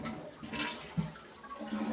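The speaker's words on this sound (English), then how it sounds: "And we'll even flush the toilet." A toilet flushes in a home newly connected to public water service, a quiet rush of moving water with a brief knock near the middle, steady and unaccompanied by talk.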